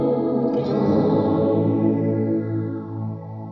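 An electric guitar runs through a Source Audio Encounter delay and reverb pedal with modulation, a sustained chord swelling with chorus-like shimmer and trailing echoes that slowly decay.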